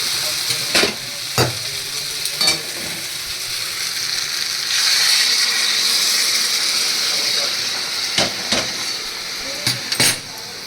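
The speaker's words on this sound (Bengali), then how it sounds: "এবার এর মধ্যে জল দিয়ে দিচ্ছি।" Water poured into a sizzling, sautéed curry mixture in a pan sets off a loud, steady frying sizzle that swells into a stronger hiss midway, with a few sharp utensil knocks scattered throughout.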